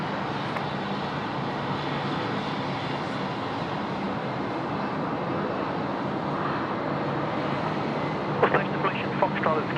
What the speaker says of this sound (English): A couple of aircraft in this shot coming in now.